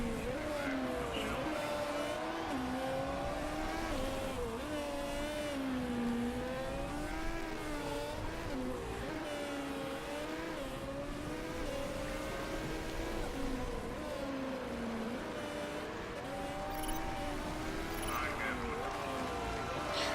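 Race cars roar around a circuit in the video game MotorSport Manager, their engines whining and wavering in pitch as they accelerate and ease off, a continuous layered drone that runs the whole stretch.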